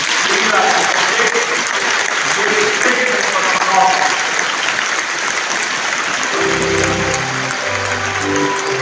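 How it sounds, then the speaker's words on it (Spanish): A congregation applauding in church after Mass, a loud, continuous round of clapping, with singing and music rising underneath toward the end. "Pues el aplauso de la madre."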